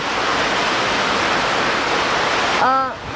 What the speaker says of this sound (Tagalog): malakas ang ulan dito, no?